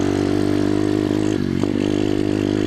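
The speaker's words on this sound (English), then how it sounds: "There's the two-stroke." A Yamaha YZ80 two-stroke pit bike engine drones steadily and loudly up close, with a buzzy, even rasp and a brief dip in revs midway.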